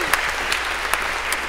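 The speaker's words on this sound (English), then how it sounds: "So maybe a round of applause for our volunteers here." Audience at a university computer science lecture applauds volunteers, steady crowd clapping with a few sharper claps standing out, fairly close and continuous through the moment, no talking over it.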